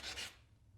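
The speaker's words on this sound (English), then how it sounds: "lay the sandpaper down, and whatever the rough or the edge that needs to be cleaned, and we just go ahead and clean" Sandpaper rubs across a rough edge on a quadcopter build part in two quick close scratchy strokes, then falls silent.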